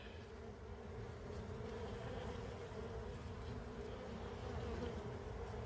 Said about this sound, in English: Look, they're bringing in some serious nectar.